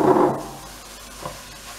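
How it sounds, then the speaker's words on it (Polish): Vegetables, garlic and minced meat sautéing in a pan for bolognese sauce, with a loud sizzle at the start that quickly settles into a softer, steady frying hiss. "Całość podsmażamy chwilę i dorzucamy mięso mielone."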